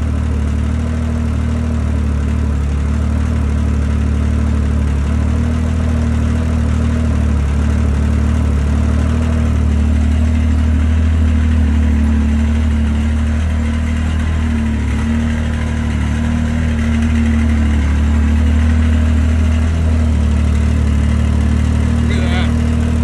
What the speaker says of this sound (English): So on this run, it just shows how long it's sitting here idling.